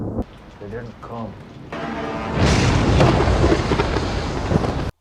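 A violent thunderstorm at a remote lighthouse builds into a loud, deep roaring rumble of thunder and rain, swelling after a brief voice at the start and cutting off abruptly.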